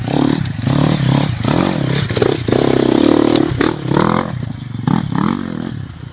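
A KTM 250 XCF dirt bike ridden at a hare scrambles event revs and rasps close by, its engine note rising and falling continuously through the few seconds it passes.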